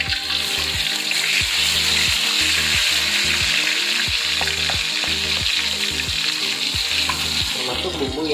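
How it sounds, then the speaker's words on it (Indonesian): Spice paste for jengkol rendang fries in hot oil with a loud, constant sizzle, while a utensil stirs in a steady, repeating rhythm of scraping strokes against the pan. "Seperti biasa, kita masak dan kita tumis sampai benar-benar harum."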